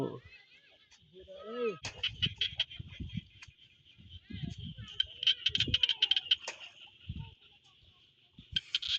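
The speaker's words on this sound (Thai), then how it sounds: "อาจจะมีเสียงกบเสียงเขียดมาฮ้องเป็นตะม่วนเด้" Frogs croak in the evening countryside in quick repeated bursts and trills, fairly near, while someone talks over them in low tones.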